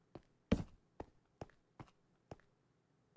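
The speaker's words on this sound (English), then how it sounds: "you could hear footsteps on the stone behind him" Footsteps on stone in a video game: six or seven separate sharp steps at a slow, uneven pace, one heavier than the rest, close and fairly quiet against near silence.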